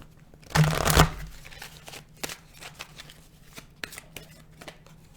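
Oracle cards shuffled by hand in a quick, papery burst, followed by softer scattered taps and flicks of the deck in a quiet room.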